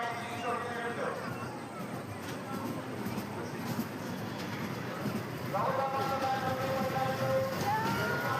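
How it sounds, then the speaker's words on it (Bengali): A dragon train ride at a fair rumbles along with a rhythmic rattling clatter of wheels and cars over a busy crowd, with voices talking throughout. "টিকিট কেটে আমরা ড্র্যাগন ট্রেনে উঠে পড়লাম।"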